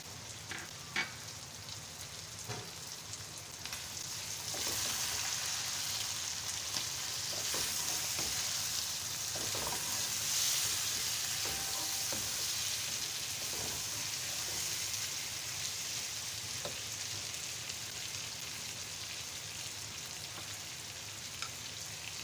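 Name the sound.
chopped tomatoes and green chillies sizzling in pan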